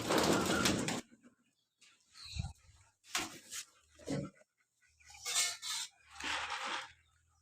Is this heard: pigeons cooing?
yes